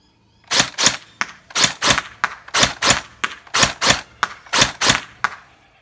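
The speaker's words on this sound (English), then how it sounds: "next I'll do a bit of rapid semi" A gel blaster AK47 fired in rapid semi-automatic, sharp close snaps in quick groups of two or three, about a dozen shots in a steady cadence with no talk.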